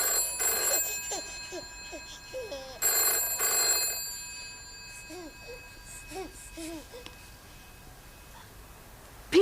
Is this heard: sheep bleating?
no